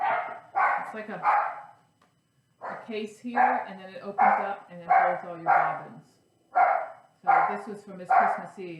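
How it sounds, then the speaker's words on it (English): A dog barks in short repeated bursts indoors, mixed in with someone talking over it steadily. "Sorry about the dog barking."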